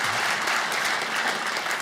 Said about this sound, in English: Man, I'm surprised he got applause.